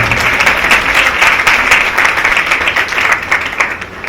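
A church congregation applauding together during a Sunday service, steady dense clapping filling the room for several seconds at an even level, no voices over it.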